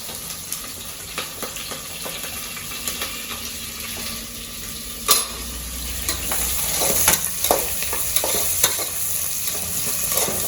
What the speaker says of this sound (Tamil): இது வெங்காயத்தையும் பச்சை மிளகாயும் போட்டு காய்ச்சிக்கலாம்